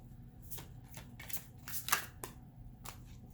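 Tarot cards are shuffled close up, giving a series of soft riffling bursts and crisp flicks, with one sharper snap near the middle and no talk.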